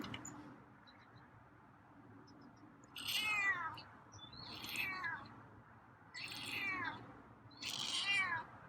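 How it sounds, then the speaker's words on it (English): A feral cat meows four times, each cry rising then falling, spaced a second or so apart over a quiet indoor background. "now the meows are coming"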